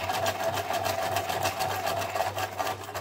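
A sewing machine stitching through paper to make a spiderweb design, a fast steady motor whir with rapid regular needle ticks, close and continuous.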